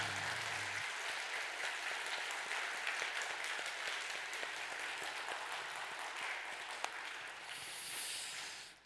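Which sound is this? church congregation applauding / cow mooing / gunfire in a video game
church congregation applauding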